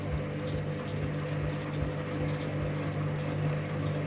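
Washing machine draining and moving into its final spin cycle: a steady, even pump hum with low rumble that runs unbroken and fairly close, with no voices.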